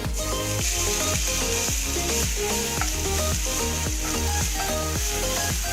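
Ginger garlic paste sizzles in a hot pan while Chicken 65 is being made, giving a steady, fairly loud hiss mixed with rhythmic tapping and tonal background sounds throughout.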